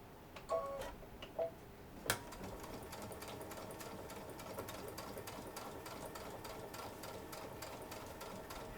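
A sewing machine hems a pair of jeans, running steadily and fast in a continuous rapid ticking stitch after a few short starting bursts, close and clear with no talking.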